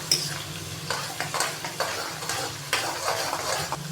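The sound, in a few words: ginger and garlic paste frying in a pan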